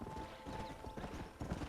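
Horse hooves clip-clop in a quick, steady rhythm in the video game Red Dead Redemption, close and continuous over a short stretch with a faint tonal hum underneath.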